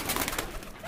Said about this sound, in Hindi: कबूतर ये तो इसको हटाओ यहाँ से, मोटा है ये, भारी भी बहुत है। हाँ कबूतर देखो